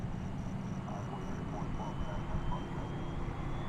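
A fixed-wing airliner takes off at DFW Airport on an August evening, its engines a steady broadband roar that stays constant throughout, with a voice talking over it.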